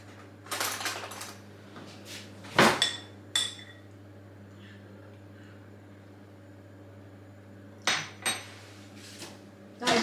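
A spoon clinks against a pan of freshly cooked homemade lemon curd: a few sharp metallic taps in two clusters, separated by a long quiet stretch, close by and with no talking.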